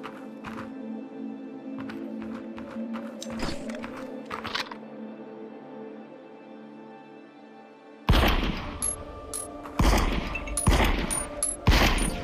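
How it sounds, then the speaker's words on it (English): Gunfire in the VR shooter The Light Brigade comes as sharp, loud, close shots in quick bursts near the end, after a quieter stretch with faint taps. "Shooting is very smooth"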